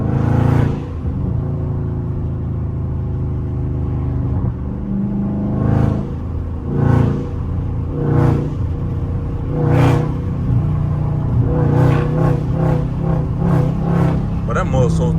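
Dodge Scat Pack pulls hard in third gear, a deep, loud, close engine rumble that swells and eases repeatedly with rhythmic surges, likely with someone talking over it.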